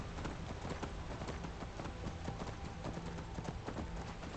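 Rapid, steady clip-clop of horse hooves galloping at a fast rhythm in Skyrim, loud and close, with no talking.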